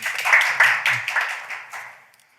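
Audience applause at a policy forum on virtual-asset taxation and investor protection, a short burst of clapping from a modest crowd that fades out within a couple of seconds.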